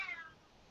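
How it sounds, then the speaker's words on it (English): A cat gives a single short meow, faint and somewhat distant, fading quickly into quiet room tone. "We hear the cat."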